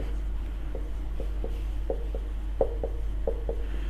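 Hand writing during a biology lesson on the Calvin cycle, heard as a series of short, faint scratchy strokes in an irregular rhythm over a steady low hum, with no talking.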